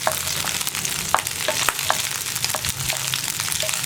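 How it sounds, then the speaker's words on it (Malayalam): Okra sautéing in a pan while being stirred, a steady close sizzle with frequent spoon scrapes and light clinks throughout. "ആ വെണ്ടയ്ക്ക ഒന്ന് ചെറുതായിട്ട് വഴറ്റിയെടുക്കുക."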